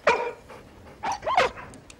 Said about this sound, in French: Oh, le gentil toutou.